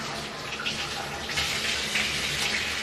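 A shower runs steadily in the background as a continuous broadband hiss of spraying water, fairly loud and unbroken throughout with no talk over it.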